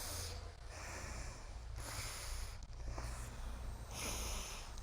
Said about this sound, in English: Now exhale through your right nostril.